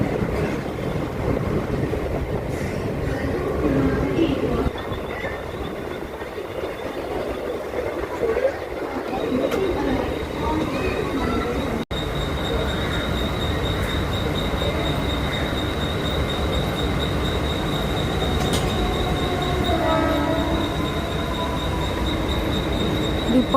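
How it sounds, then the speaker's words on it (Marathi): A Mumbai slow local train on the CSMT–Vashi line pulls into GTB Nagar and leaves again, with a steady rumble of wheels on rails, a thin high squeal held through much of it, and clanks of the carriages. "इकडे आपली ट्रेन पोचलेली आहे"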